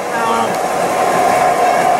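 A model train passing on the layout at a model railroad club, a steady close rolling rumble and hum with faint whining tones, continuous throughout the short moment.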